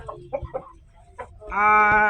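A young Japanese Shamo rooster, about three months old, lets out a single loud, close crow after a few soft, scattered clucking sounds.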